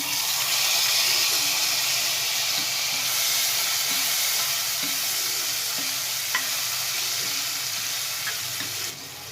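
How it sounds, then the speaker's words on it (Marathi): Chopped tomatoes sizzling in hot spice tempering with curry leaves, asafoetida and turmeric for Maharashtrian goda masala aamti, a loud, steady frying hiss with faint stirring clinks throughout, no voices. "बारीक चिरलेले टोमॅटो घालूया आपण यामध्ये"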